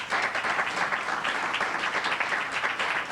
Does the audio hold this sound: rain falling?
no